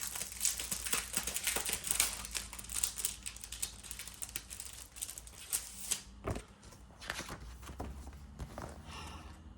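Crinkly plastic packaging on an album-making craft kit with embossing folders and frames is handled and pulled open, giving dense close crackling and rustling for several seconds before it thins into scattered softer crinkles.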